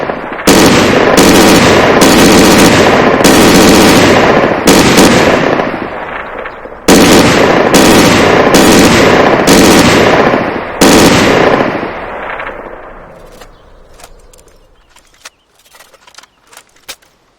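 Rapid loud bursts of automatic gunfire from new weapons in the IFA3WarMod video game, several sustained volleys with short gaps, then scattered shots and echoing tails fading toward quiet.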